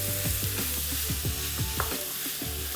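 Zucchini and water chestnuts fry in a wok with a steady sizzle, while a utensil scrapes and stirs in quick repeated strokes close by.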